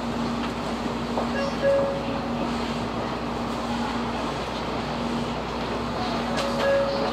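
A JR Freight EF64 electric locomotive hauls an up freight train on the Tokaido Main Line through Nagoya Station, giving a steady low rumble with faint whining tones that stays at a moderate distance throughout.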